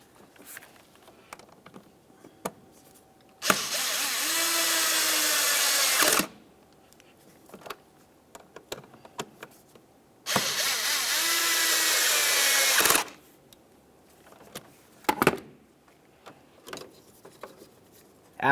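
A cordless power drill whirs in two steady bursts of about three seconds each as it snugs up the mounting screws on a replacement mass air flow sensor for a 2002-2005 Ford Explorer, with quiet handling clicks between the bursts.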